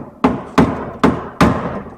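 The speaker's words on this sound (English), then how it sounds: "we have WD-40 and a hammer. So we'll see if we can get this moving" Hammer striking a seized bolt treated with WD-40, four sharp, evenly spaced metallic blows close by, each ringing briefly before the next.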